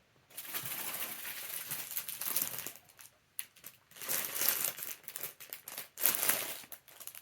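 A plastic bag crinkling as it is handled, close and crisp, in several separate bursts of rustling with short quiet pauses between them.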